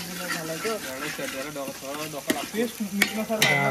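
Food frying golden brown in a pan at a temple party in Konkan, a bubbling sizzle with a few sharp crackles, close and moderately loud, running under people talking.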